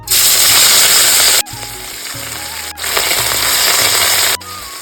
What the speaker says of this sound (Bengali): এবার আমি একে একে হলুদ লবণ দিয়ে ম্যারিনেট করা মাছগুলো ভেজে নেবো